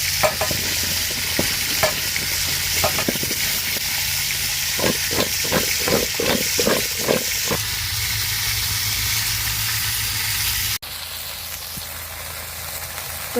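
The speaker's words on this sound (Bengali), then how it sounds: "আলু আর পটলগুলো ভেজে নিব।" Potatoes and pointed gourd fry in oil over a clay stove, with a constant close sizzle and a run of sharp stirring clicks and taps in the middle before the sizzle softens near the end.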